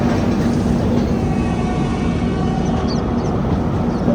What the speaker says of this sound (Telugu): ట్రైన్ బయలుదేరుతుంది